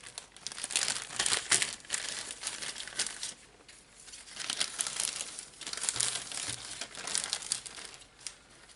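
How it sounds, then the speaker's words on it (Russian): A plastic zip bag serving as a mini greenhouse for seed cups is handled with continuous loud, close crinkling in several waves, with no speech. "Теперь все вот эти вот семена я убираю в тепличку. То есть в данном случае вот такой вот зип-пакетик."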